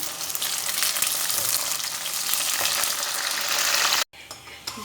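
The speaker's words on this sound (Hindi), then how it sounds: "अब इसके अंदर मैं प्याज डाल देती हूँ। सिर्फ 1 मिनट इसको भी फ्राई करूँगी मैं।" Okra and onion frying in a pan, a loud steady crackling sizzle close up that continues for about four seconds before a brief break.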